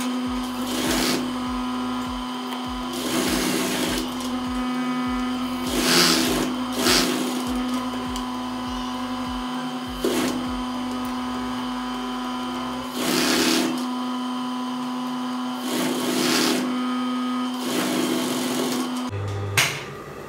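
A sewing machine stitches along the creased leg hem of homemade jogger pants in bursts of steady whirring, pausing and restarting several times, close and clear with no voices.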